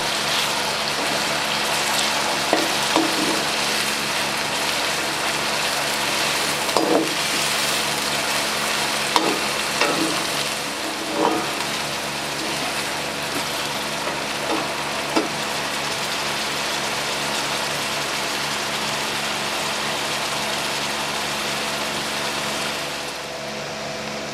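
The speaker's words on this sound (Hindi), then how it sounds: "प्याज को अच्छे तरीके से फ्राई करेंगे।" Onions fry in oil for besan pakoras with a loud, steady, close-up sizzle. Scattered pops and clicks from stirring punctuate it for the full stretch, and no one speaks.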